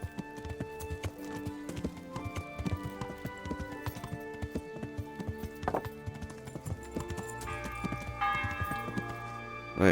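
Horse hooves clip-clop steadily and close in Kingdom Come: Deliverance, a continuous rhythmic trot layered with game music and occasional bell-like tones, with no talking.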